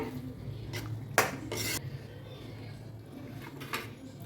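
Roasted masala paste for squid curry gets mixed into hot oil with a few scraping, clattering strokes of a utensil against the pot over a low steady sizzle, close and without any voices.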